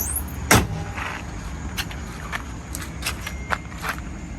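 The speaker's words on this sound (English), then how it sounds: "Closing the hood." A car hood slams shut on a G37 coupe in a garage, one loud thud near the start followed by faint clicks and handling noises against a steady background hum.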